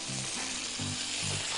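Chicken searing with butter in a hot pan makes a dense, steady hiss, loud and near, with a faint low hum running beneath.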